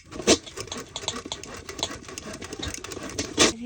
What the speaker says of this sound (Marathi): तर आपण त्या चाळण्यावर अशा प्रकारे एक एक बटाटा करून किसून घेऊ.